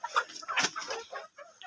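Chicken clucking close up on a small farm where the birds are being kept warm against the cold, a series of short, busy calls with brief gaps, one loud burst in the middle.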